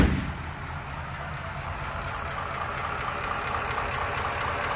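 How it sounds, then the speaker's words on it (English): A 1940 Ford Deluxe engine idles in a steady, smooth, low rumble near the tailpipe, an even unbroken drone with no talking. "Let's go give a listen to the engine and the sound coming out of the tailpipe."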